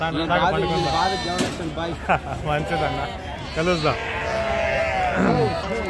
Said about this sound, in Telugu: ఇంకా 4 గొర్రెలు ఉన్నాయి కింద.